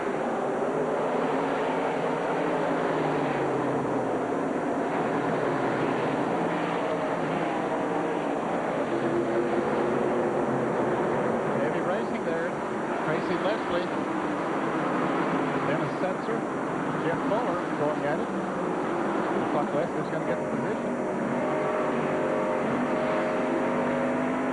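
NASCAR Busch Series race cars run nose to tail at full speed at IRP, a continuous dense engine roar with shifting pitch under steady commentary.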